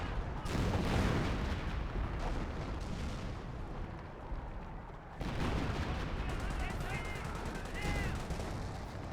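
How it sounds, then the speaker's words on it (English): Artillery shells and small-arms gunfire in the Company of Heroes WWII strategy game, a dense continuous wash of battle noise with rumbling blasts, loud throughout and briefly dipping before surging again. "these guys getting hit pretty hard by the on-map artillery"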